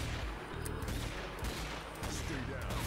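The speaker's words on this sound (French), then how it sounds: "Je vais les finir au petit flingue." A small gun fires rapidly at zombies in the video game Zombie Army 4, with dense, continuous bursts of shots over game noise and brief dips between volleys.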